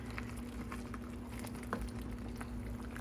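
Jambalaya simmers in a hot black iron pot with a soft, steady bubbling and popping that runs quietly throughout, with no voices.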